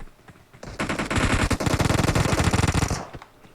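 Sustained automatic gunfire in PUBG Mobile, a loud, close burst of rapid shots lasting about two seconds, with no voices over it.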